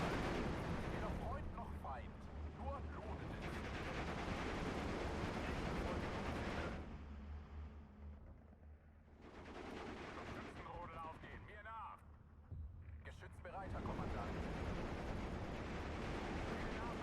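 Battlefield sounds from the video game Steel Division 2: dense artillery booms and rattling machine gun fire, loud and continuous, broken by a couple of quieter stretches with distant rumbling, a voice talking over parts of it.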